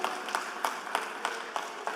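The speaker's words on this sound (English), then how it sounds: "This truly calls for an applause for all of you guys." A sales team applauds at a briefing. The sound is faint and fairly distant, a soft ongoing wash of clapping with a few regularly spaced louder claps standing out.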